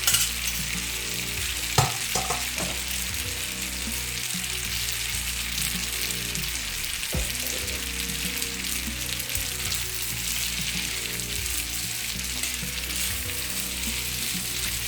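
Food frying in two tablespoons of butter in a pan, a loud, even sizzle sustained for the whole stretch, with an occasional clack of a utensil near the start and no talk.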